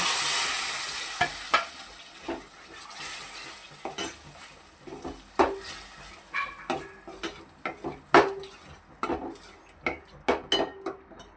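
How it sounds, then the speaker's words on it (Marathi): Ground spinach paste going into a hot pan, with a brief sizzle followed by repeated close clinks and scrapes of a utensil stirring against the pan at an irregular pace, with no talking. "आणि हे पालक टाकते वाटून घेतलेले"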